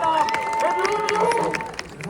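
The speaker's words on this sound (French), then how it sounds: "On les applaudit bien fort quand même." A crowd applauds and cheers at a Deadpool dance show at Disneyland Paris, with steady clapping mixed with voices and a sustained tonal sound running through.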